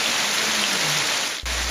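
Rain falling in Morrinhos after a long dry spell, a steady dense hiss of drops that holds loud and even, with a brief dip and a low hum near the end.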